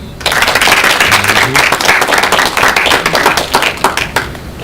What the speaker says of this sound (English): So please give a round of applause for Mr. Davey-D.